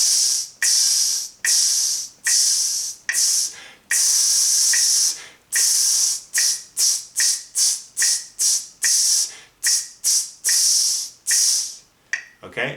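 A trumpet rhythm exercise performed as a sizzle, voiced hissing 'tss' bursts imitating the rhythm without the horn, some held long and others short and quick in a steady counted pattern, close and loud.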